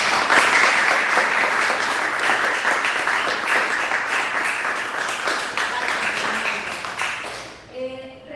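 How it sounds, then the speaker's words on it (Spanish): Audience applause after a technical talk on containers, a loud sustained wash of clapping from many hands that tapers off near the end as a voice begins. "Bueno, vamos a dar un aplauso."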